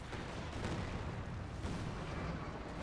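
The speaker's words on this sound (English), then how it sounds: "Grenadiers opening fire." Grenadiers firing rifles in the World War II strategy game Company of Heroes 2, a dense, steady wash of battle noise with overlapping gunfire and rumbling bursts that runs without a break.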